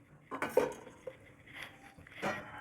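A container of khandvi batter set into a pressure cooker with water on a low gas flame, a few soft metallic clinks and knocks, quiet and close, then a brief scrape.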